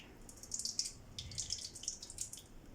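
Buttermilk trickles and splashes in small irregular bursts as it drains from under homemade butter, a quiet close-up draining sound with no talking.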